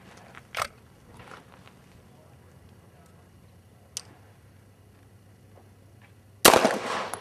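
Handgun shots at shooting practice: a few sharp, isolated cracks with long quiet gaps between them, the last one loudest and nearest, over a faint background hum.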